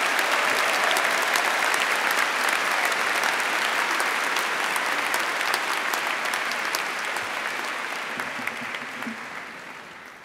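A hall full of people claps for engineering graduates at a university commemoration day ceremony, a thick sustained wash of applause that holds steady and slowly tapers off toward the end.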